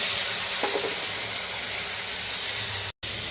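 Ground spice paste drops into a pan of potatoes fried red with salt and turmeric, giving a steady close sizzle with a brief stirring scrape early on and a short break near the end, no one talking.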